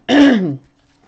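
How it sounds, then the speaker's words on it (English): A single short, throaty cough into an elbow, close and fairly loud, followed by quiet. "I coughed into my elbow."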